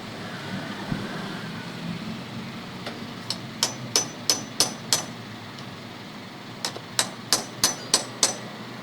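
Sharp metallic hammer strikes on a stuck motorcycle engine part during an overhaul, in two bursts of rapid blows, about six each, with a pause between, ringing out clearly over a low background hum.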